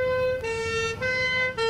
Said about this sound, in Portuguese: A prioridade é realmente a ambulância dos bombeiros.